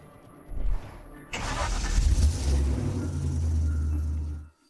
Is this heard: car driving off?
yes